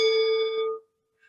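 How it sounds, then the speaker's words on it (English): A single meditation bell struck once during a guided sitting practice, its clear ringing tone sustaining loudly and fading out over nearly a second, followed by a faint brief chime afterward. "So Jamie would ring the bell 10 times."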